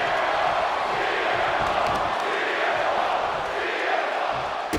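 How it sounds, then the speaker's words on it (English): An arena crowd roars and cheers during a wrestling match in the video game WWE 2K25, a dense, continuous wash of noise at steady loudness with no talk over it. "The crowd is fired up."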